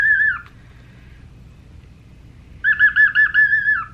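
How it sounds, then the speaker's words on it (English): A pet cockatiel chirps at its own reflection, a short bright whistle followed after a pause by a quick run of repeated rising chirps, close and loud against a quiet room. "He is the cockatiel."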